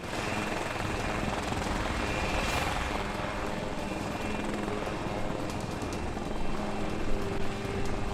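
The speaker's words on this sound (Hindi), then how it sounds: "यह है आत्मनिर्भर भारत का पहला लाइट कॉम्बैट हेलीकॉप्टर" HAL Light Combat Helicopter of the Indian Air Force in flight, a steady, loud broadband rotor and turbine roar that holds constant throughout with no talk.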